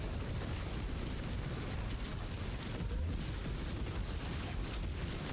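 Explosion effect from the Ring of Menden in the video game Blight, a dense, continuous roaring burst of noise filling the whole stretch at steady loudness with no voices.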